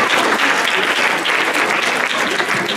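Audience at a ballroom dance competition clapping and cheering, a dense, loud, steady wash of applause filling the room throughout.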